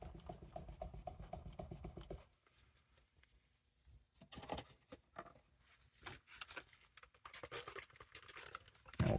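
A hand scrubs and rubs dirt off a part of an original Xbox, making intermittent close, scratchy rubbing bursts separated by quiet pauses, faint overall.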